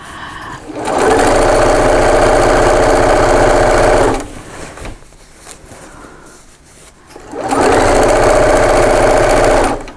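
A sewing machine stitches over a bulky seam of an organiser bag, running in two loud, steady bursts separated by a quieter pause with handling noise.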